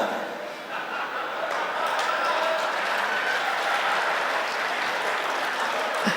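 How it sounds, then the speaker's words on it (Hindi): A large audience at a Hindi poetry recital applauds continuously, a thick wash of clapping that holds steady for several seconds, with faint laughter mixed in. "आपकी तालियां बहुत कमजोर हैं।"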